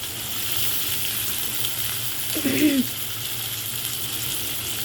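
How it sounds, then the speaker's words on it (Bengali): Chopped onions go into hot oil in a pan for a spiced crab dish cooked like meat, giving a steady close sizzle that briefly swells as they land, with no talk. "এই যে দেখেন পেঁয়াজ দিয়ে দিচ্ছি"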